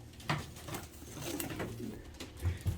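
Low, soft cooing from a grizzle pigeon hen repeats in a series of muffled throaty notes, close by, with quiet background noise.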